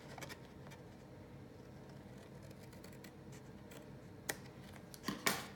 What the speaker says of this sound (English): So I'll just line it up there and then trim off the excess here.